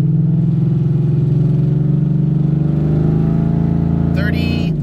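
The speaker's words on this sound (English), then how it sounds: "show you how high I can stall the car, you know, stopped without the tires breaking loose, in drive, foot brake situation" A 2015 Ford Mustang with a 6R80 automatic, 6F torque converter and long-tube headers revs hard in drive against the foot brake during a stall test, a loud steady engine drone rising slowly in pitch, with a voice briefly at the end.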